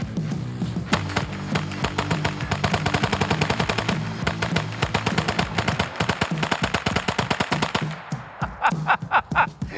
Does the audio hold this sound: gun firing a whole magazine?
yes